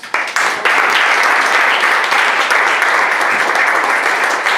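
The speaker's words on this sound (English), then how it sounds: "I want a big round of applause for our panelists." Audience at a Baltimore tech meetup on mobile privacy and security applauding the panelists, dense loud clapping that swells in quickly and holds steady as a full, close ovation.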